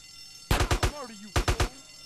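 Gunshots in the video game GTA San Andreas, two quick bursts of three or four sharp loud shots each, separated by a short pause.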